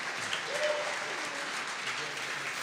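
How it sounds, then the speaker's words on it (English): Audience applause at a live show, a steady moderate patter of clapping with a few voices murmuring underneath, fairly distant and even throughout. "Give him a round of applause for getting it correct."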